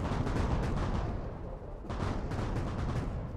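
Enemy gunfire at a unit in Strategic Mind: The Pacific, a steady barrage of overlapping shots over a continuous rumbling roar, moderately loud and unbroken apart from a brief dip midway.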